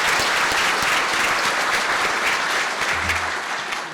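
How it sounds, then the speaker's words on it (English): Audience applause for an orchestra's chamber ensemble at a business forecast breakfast, a dense steady round of clapping from a full room that carries on for the whole stretch and eases slightly toward the end. "Let's give them a round of applause for that."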